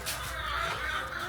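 Backyard chickens clucking close by in a short burst of overlapping busy clucks and soft squawks, fairly loud and without any talking.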